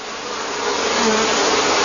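Steady, loud droning buzz of many bees swarming close by, continuous and unbroken with no voices.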